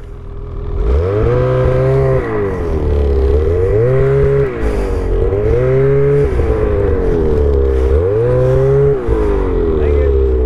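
Ski-Doo snowmobile engine revving loudly and close, rising and falling in four repeated throttle swells with a strong buzzing tone over a steady idle.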